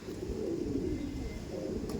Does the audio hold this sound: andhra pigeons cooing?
yes